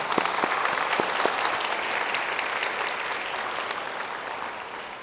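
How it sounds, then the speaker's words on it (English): A room full of people claps in sustained applause after a live performance at a spiritual gathering, steady and dense throughout with a few sharper claps early on. "Let's give her a round of applause."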